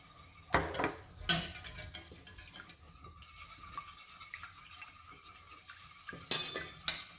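Cream being stirred for a raspberry mousse mirror cake, with a few sharp clinks of a utensil against the bowl over soft, steady scraping and mixing; no voices.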